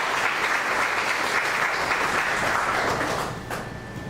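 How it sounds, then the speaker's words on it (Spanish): A church congregation applauds in a sustained, dense burst of clapping that stays strong for about three seconds, then thins out and fades slightly toward the end. "Denle una ofrenda de palmas a Él."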